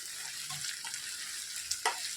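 Ginger garlic paste frying with onions in oil for a capsicum masala curry, a steady soft sizzle with a couple of brief scraping stirs near the end, no talking.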